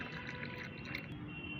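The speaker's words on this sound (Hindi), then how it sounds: "हमें भर लेना है पानी।" Water poured into a mix of tea leaves and chalk powder to make plant fertilizer, a faint, continuous trickling pour heard alone at close range.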